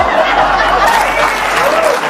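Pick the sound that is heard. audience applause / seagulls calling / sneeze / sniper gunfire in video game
audience applause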